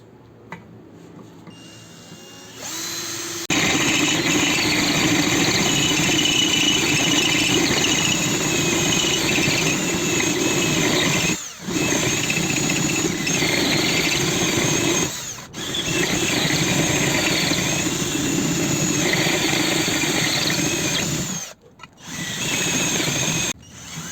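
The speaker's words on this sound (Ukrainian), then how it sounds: "Так, досверлив до кінця." A Ronix cordless drill-driver bores a 10 mm hole, its loud, steady whirring motor broken by a few short pauses as the bit bites and the trigger is released, then ending in a last stop.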